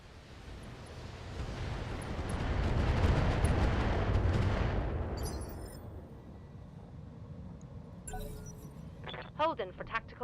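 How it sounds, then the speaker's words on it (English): Heavy mech weapons fire in the BattleTech video game with a modded setup, a dense rumbling barrage that swells and then fades, followed by a few sharp electronic blips near the end. "so I'm going to keep firing"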